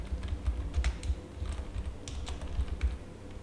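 Rapid, irregular keystrokes on a computer keyboard as an item name is entered into accounting software, close and clear with no speech.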